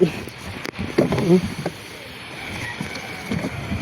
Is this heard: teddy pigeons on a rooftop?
no